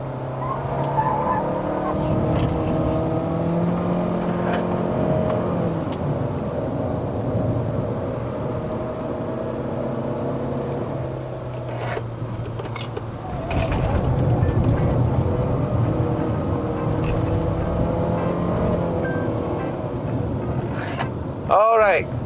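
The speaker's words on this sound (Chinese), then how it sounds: "这辆车差不多到顶的时候呢，那个 CVT 的噪音开始传出来" Engine and drivetrain drone from a 2023 Chery Omoda 5 1.5T with CVT climbing the mountain road to Genting, Malaysia, a steady loud in-cabin hum with shifting tonal bands and road noise throughout.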